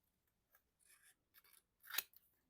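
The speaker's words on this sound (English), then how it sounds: "cut, cut, cut, and then to about the same point" Scissors make a few quiet, separate snips while fussy cutting a paper printable, with one sharper, louder cut near the end.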